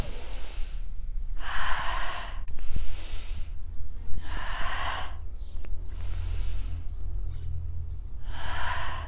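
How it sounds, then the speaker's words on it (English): Deep yoga breaths, a loud inhale followed by an exhale, repeated in a steady rhythm of breathing bursts, heard close against a low background hum. "I'm gonna inhale, arching my back, and exhale,"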